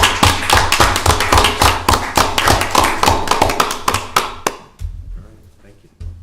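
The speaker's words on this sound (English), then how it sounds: "could we have a round of applause?" Round of applause at a Lancaster County Board of Commissioners meeting, a small group clapping in sharp, close, irregular slaps that thin out and stop near the end, a single thump following.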